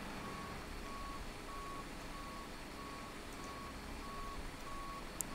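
A ground vehicle's reversing alarm in Microsoft Flight Simulator X repeats evenly about eight times, each beep short and high-pitched, over a steady low rumble of engine and ambient noise.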